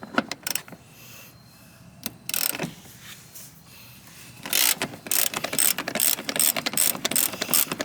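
A hand ratchet clicks as it loosens a seat belt mounting nut inside a 2006 Honda Odyssey van, giving quick close bursts of ratcheting clicks that build into a steady run of clicks.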